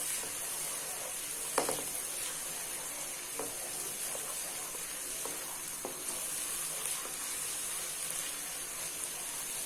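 Onions fry in a pan, giving a steady soft sizzle with occasional stirring clicks and scrapes, quiet and continuous.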